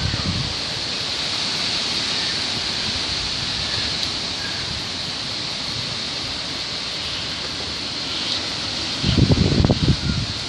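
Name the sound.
wind blowing outdoors before a storm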